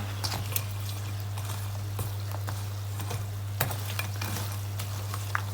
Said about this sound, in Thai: ทอดจ้ะมันจะได้กรอบ